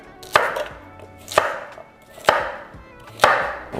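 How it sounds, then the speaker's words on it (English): A kitchen knife chopping carrots in half on a cutting board, four firm evenly spaced chops, close and clear with no talking. "it's the carrots that are going to be the toughest to cut up"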